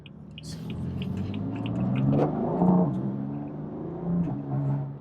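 A stage 1 tuned BMW M4 with a ZF automatic transmission accelerates, its engine revving in rising sweeps with audible shifts between pulls, heard from inside the cabin at moderate loudness.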